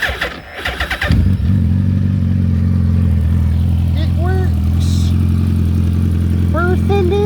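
A Suzuki Hayabusa motorcycle engine starts after a brief clatter and settles into a loud, steady close-up idle, with a few short throttle blips near the end.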